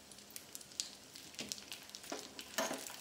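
Grated coconut, cashews and almonds frying in hot ghee, a soft steady sizzle broken by light stirring scrapes and a few louder crackling bursts near the end.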